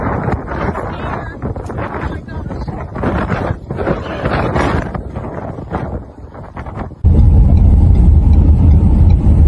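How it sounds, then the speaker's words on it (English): Strong gusting wind rushes in as a summer storm arrives in Phoenix, Arizona, loud buffeting against the microphone, then a sudden heavy, steady roar. "You can see the wind build up right there."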